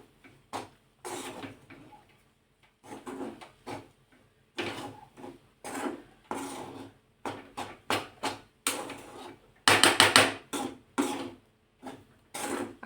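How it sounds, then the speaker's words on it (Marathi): A green pea filling for matar kachori is being stirred and sautéed in a pan. Repeated scraping and rustling strokes come in uneven bursts separated by short pauses, with one louder, busier stretch near the end. "आता हे छान मिक्स करून घ्यायचं. पुन्हा हे 2 ते 3 मिनिटं परतायचं आहे."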